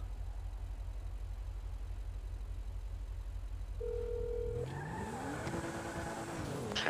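A phone dials in a roleplay video game: a short steady tone sounds over the low rumble of a driving car, then gives way to skidding and engine noise.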